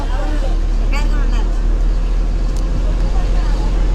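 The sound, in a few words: bus ride, inside a moving bus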